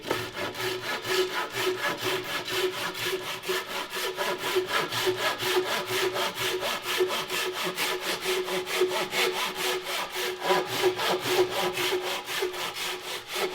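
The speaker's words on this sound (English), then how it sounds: "With a sharp Japanese handsaw, there's no need for a lot of pressure." A sharp Japanese handsaw cuts through wood in a long series of quick, even strokes. The rhythmic rasping is close and moderately quiet, with no voices.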